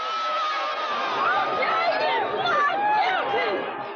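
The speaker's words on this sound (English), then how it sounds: "Here the crowd is mostly jubilant." A jubilant crowd roars just after the O.J. Simpson murder verdict, with dense overlapping shouts and whoops that swell and hold steady.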